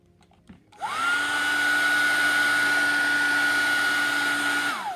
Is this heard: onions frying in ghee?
no